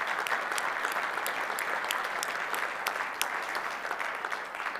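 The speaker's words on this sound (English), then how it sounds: "helping me with a round of applause for our brave Ukrainian friends" Conference audience at CloudFest 2022 applauding steadily, a dense continuous clapping from a large room with no talk over it.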